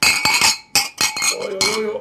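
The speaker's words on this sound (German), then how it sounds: "Trotzdem anstoßen. Glas an Glas, es wird hinhauen." Beer glasses knocked together in a toast, giving a few sharp bright clinks in quick succession at close range, with voices and a brief hum of talk between them.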